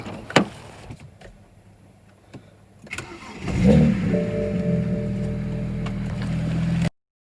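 A BMW E92 335i engine cranks and starts after some clanking, then settles into a loud, steady idle close by until the sound cuts off abruptly.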